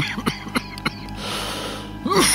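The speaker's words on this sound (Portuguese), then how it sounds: "quando começa a tossir assim é ruim" A man coughs in a run of three or four short, sharp bursts, close to the microphone, amid faint background noise, and his voice rises briefly at the end.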